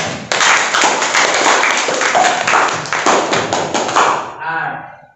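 Students in a Grade 10 Islamic religious education class clap together to reward a classmate's answer, a dense burst of hand claps lasting several seconds before tapering off under a trailing voice.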